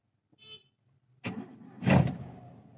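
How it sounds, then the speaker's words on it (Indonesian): A 1990 Toyota Kijang Super engine cranks and catches after a faint click, firing up with a short rising roar and then settling into a close, steady idle. "Kita sekalian nyalain mesinnya ya."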